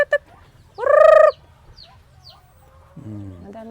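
Native chickens in a rural Filipino yard near corn: one loud, close cluck-squawk, then scattered faint chirps and a lower clucking call at the end, with no talk.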